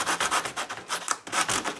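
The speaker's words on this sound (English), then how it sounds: "I'm going to go in there and give it a good little sanding" Sandpaper rubbed along the edge of book pages in an altered book, giving a string of close, dry scratchy strokes in a steady back-and-forth rhythm.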